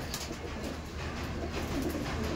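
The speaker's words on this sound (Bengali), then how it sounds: "এই দেখুন পায়রা দেখুন" A freshly released green pigeon coos softly at close range over a steady background hiss, with low murmuring notes across the short stretch.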